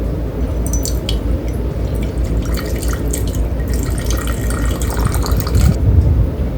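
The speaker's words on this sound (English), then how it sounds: "I'm just going to add a little water to this one" Water is poured into a glass jar of LECA holding an Alocasia plant with a steady trickling, gurgling flow and a few drips. Close by, with no speech.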